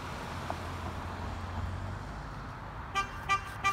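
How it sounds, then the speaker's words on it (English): Car horn honks three times in a parking lot beside a wooded disc golf course, short bright beeps near the end sounding over steady low outdoor rumble and traffic noise. "the horn honking in the parking lot"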